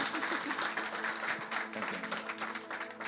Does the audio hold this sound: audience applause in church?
yes